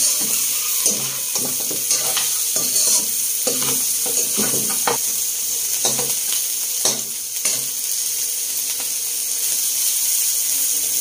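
Pork sautéing in a pan, a loud continuous sizzle with irregular scraping and stirring clatters from a utensil against the pan throughout; no talking.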